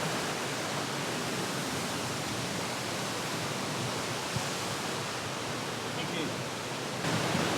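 A loud Icelandic waterfall heard from behind the falling water, a dense, steady roar of crashing water that fills everything, with no break over the whole stretch.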